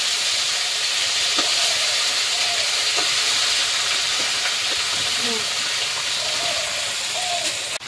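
Vegetables sizzle and hiss in hot oil in a pan for fish curry, a loud, steady frying noise that runs unbroken throughout.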